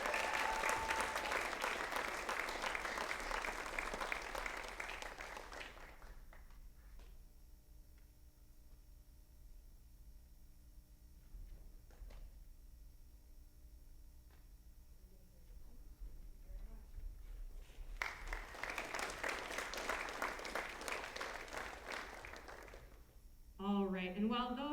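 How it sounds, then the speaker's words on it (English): An audience at a karate academy black belt graduation applauds in two separate bursts of loud, dense clapping, with a quiet stretch of faint room noise between them and a brief voice at the very end. "Let's give them a round of applause,"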